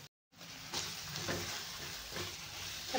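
Tomatoes and spice paste sauté in hot oil for a spicy brinjal dish, giving a steady close sizzle with soft scraping strokes of a spatula. A brief silent gap opens the clip, then the frying continues unbroken.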